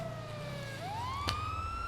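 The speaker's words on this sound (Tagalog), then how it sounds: "Tanggalin muna natin yung wangwang." A police siren wails in a video game set at a car dealership, its tone sweeping upward steadily at moderate volume, with a brief sharp click partway through and no voices.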